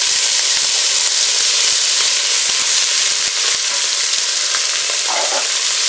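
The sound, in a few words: chopped onion and celery sautéing in Ninja Foodi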